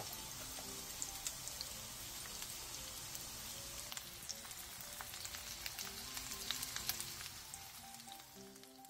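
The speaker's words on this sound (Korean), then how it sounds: "동그랑땡도 뒤집어준 뒤 살살 눌러가며 모양을 잡고 마저 앞뒤로 노릇노릇하게" Donggeurangttaeng, Korean meat patties, pan-frying in oil, a fairly faint steady crackle with scattered pops and light spatula taps, no talk.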